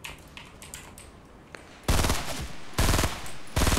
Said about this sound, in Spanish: se ha llevado tres tiros, tío, de la ráfaga